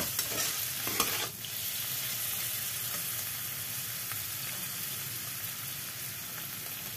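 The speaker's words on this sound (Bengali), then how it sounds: "এখন পনিরগুলোকে ভাজা হয়ে গেছে" Paneer pieces fry in hot oil in a kadai, giving a constant close sizzle with a few brief clinks of a spatula near the start, steady and unbroken with no talking.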